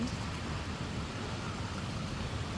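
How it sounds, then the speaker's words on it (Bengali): Rain falls in a steady, even hiss with no pauses, a constant soft wash of drops and no voices. "দেখেন বৃষ্টি শুরু হয়ে গেছে"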